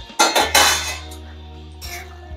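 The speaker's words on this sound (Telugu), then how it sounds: "ఇప్పుడు దాన్ని ఓపెన్ చేసి ఒకసారి కలుపుతాము, మళ్ళీ క్లోజ్ చేసి కుక్ చేయాలి." Dhaba-style chicken fry is stirred in a cooking pan with a metal utensil, several close clanks and scrapes at the start, then a steady low hum and faint clinks.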